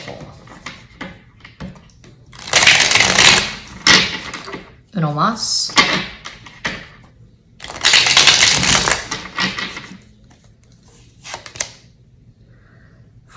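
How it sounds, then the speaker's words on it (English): A tarot deck is shuffled hard in two long, loud riffling bursts close by, with a voice briefly speaking between them and quieter card handling afterward. "Do a good hard shuffle."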